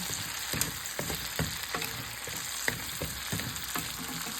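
Garlic butter lobster tail sizzling steadily in a pan, with repeated stirring and scraping taps as the pieces are rolled around, close and alone.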